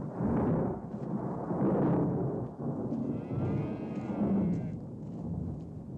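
Deep rolling thunder in a 1950s adventure film scene, long low rumbles swelling and fading in waves, fairly loud and continuous with a faint higher tone drifting over the middle.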